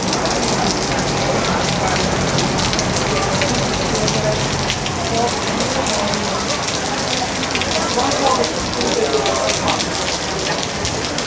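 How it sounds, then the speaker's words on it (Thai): Steady, dense rain pours down throughout by the Chao Phraya River in Bangkok, a constant broadband patter with faint murmuring voices underneath. "ฝนตก"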